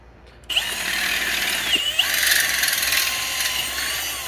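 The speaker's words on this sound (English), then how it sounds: "what we're gonna do is drill this out" A power drill spins up abruptly and whines steadily as it bores out a bicycle rim's valve hole, close and fairly loud, with a slight change in pitch partway through.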